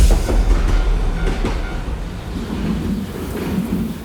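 A train rolls by on railway tracks with a loud, continuous rumble and a faint rhythmic clatter from the wheels, fading slightly over the few seconds with no voices.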